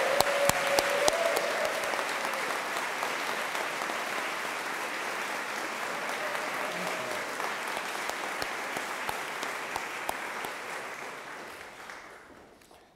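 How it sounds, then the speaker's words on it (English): A convocation audience applauds student volunteers with full, continuous clapping that holds steady and then tapers off near the end, with a faint tonal murmur beneath and no clear speech. "And will you all join me in giving all of them a round of applause?"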